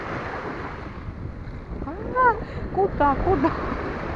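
Sea waves wash against the shore at Berdyansk with a continuous churning surge and wind buffeting the microphone, while someone speaks briefly close by.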